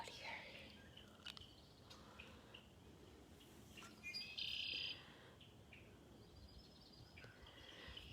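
Many birds chirping and calling outdoors near a feeder, with scattered high tweets and one brief louder trill midway, faint and somewhat distant over a soft, steady background of quiet noise.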